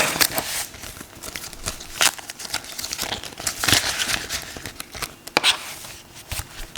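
Cash is stuffed into a paper rollover folder, close and loud, with repeated crinkling, rustling and sharp paper snaps in an irregular rhythm.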